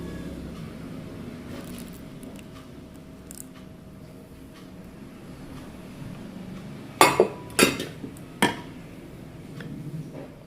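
Butter being mixed into keto cake batter, quiet scraping under room noise, then a short burst of three or four sharp utensil clinks against the bowl near the end.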